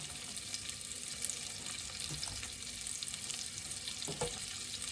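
Red peppers and spring onions frying in a pan, giving a steady close sizzle with a few soft stirring scrapes and thumps.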